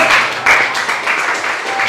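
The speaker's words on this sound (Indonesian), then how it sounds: "Oke, tepuk tangan buat teman kamu." Classroom applause from students clapping for a classmate after a group presentation, a short burst of dense clapping with a voice partly mixed in.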